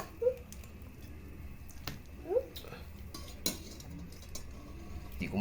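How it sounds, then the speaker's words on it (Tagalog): A metal ladle clinks against a pot while shrimp soup is served, giving a few scattered, fairly soft knocks and scrapes over a quiet room hum. "Sasandok na tayo mga kabi."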